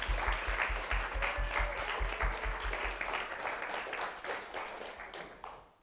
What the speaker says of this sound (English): Let's give a round of applause to our mentors sitting in the back.